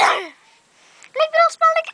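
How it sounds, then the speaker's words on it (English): A single short, harsh cough bursts out at the start, then after a brief pause a high, child-like voice speaks in several quick bursts. "I just had a cough again."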